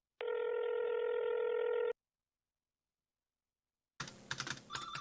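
A telephone being dialed, heard as a steady tone for almost two seconds, then a gap of silence and a burst of busier clicking and beeping key sounds near the end.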